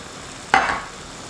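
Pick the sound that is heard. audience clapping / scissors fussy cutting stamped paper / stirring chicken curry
stirring chicken curry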